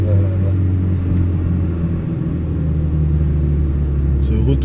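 Audi TT mk2 Cup with S-tronic gearbox idling near a beach at Saint-Valery-en-Caux, producing a loud, steady, deep engine and exhaust rumble.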